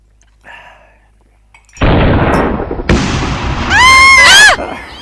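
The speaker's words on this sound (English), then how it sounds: "Hilda, it's just a bomb, love. About 2 or 3 streets away, judging by the sound." In a wartime radio play, a bomb goes off two or three streets away, a heavy rumbling blast with crackling debris, after faint voices and before a high whistling sound.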